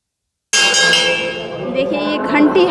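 A metal temple bell is struck suddenly and rings on with a bright, lingering tone amid busy background noise and worshippers' voices.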